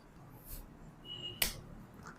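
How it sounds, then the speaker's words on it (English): A single sharp hand slap cracks out once, brief and fairly quiet, over a low murmuring background with faint rustles before it. "I slap."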